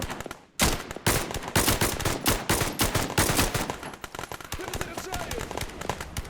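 Dense gunfire in the video game Glory To The Heroes: rapid bursts of automatic fire and single shots, loud and nearly continuous after a brief gap at the start.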